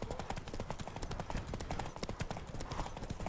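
Horse hooves gallop fast in a race in The Witcher 3, a dense drumming clip-clop heard throughout with faint voices mixed in.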